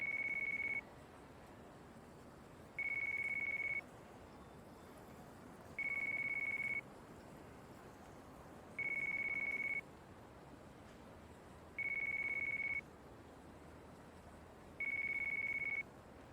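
Phone ringing in Yakuza 5: six evenly spaced electronic ring bursts, each about a second long, repeating every three seconds over a low ambient background with no one talking.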